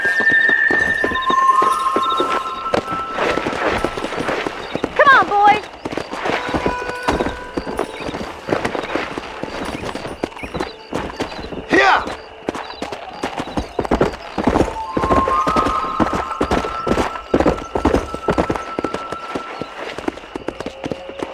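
Horses galloping in a Red Dead Redemption race, rapid rhythmic hoofbeats on dirt for a long stretch, with snorts and whinnies and the tack jingling along the way.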